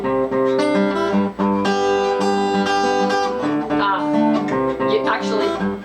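A fast, bright guitar riff plays continuously and loud, with dense ringing strummed notes and a steady driving rhythm for several seconds.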